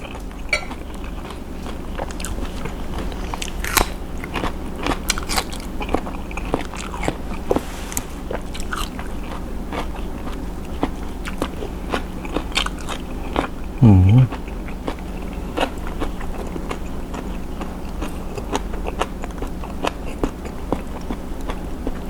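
Crunchy biting and chewing of shrimp with crispy fried shallots, a string of close, sharp crunches repeating across the whole stretch with no talk.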